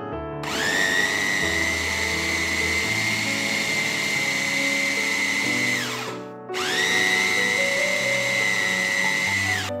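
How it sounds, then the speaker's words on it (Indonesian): A food processor grinds a savoury snack mixture with a loud, steady high motor whine. It runs for about six seconds, stops briefly, then starts again up close. "siapkan pelumat makanan. Ini akan saya lumatkan atau haluskan."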